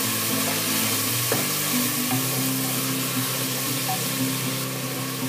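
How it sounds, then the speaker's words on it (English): Mixed vegetables with sweet corn stir-fry over a high flame for dal khichdi, giving a dense, continuous sizzle with a tossing scrape near the start. Faint background music runs underneath. "So just add it and toss it up till it is cooked"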